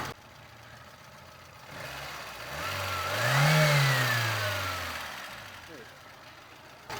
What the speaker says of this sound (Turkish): Evet aracımızı indirdik, çalıştırdık.